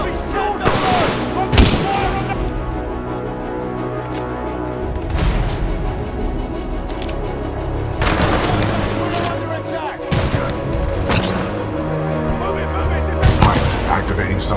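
Heavy gunfire in the shooter game Titanfall 2, with bursts, sharp shots and booming blasts hitting repeatedly at close range across the whole stretch, mixed with a game voice speaking.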